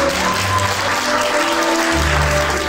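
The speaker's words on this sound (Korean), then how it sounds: "너무나 아름답고 멋진 주인공을 위해서 축하의 박수 부탁드리겠습니다" A crowd claps warmly and continuously throughout, a dense, steady round of applause for the couple at a wedding ceremony in a wedding hall.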